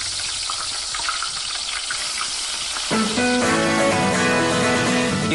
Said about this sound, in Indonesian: Irisan bawang dan cabai ditumis hingga kekuningan dan harum.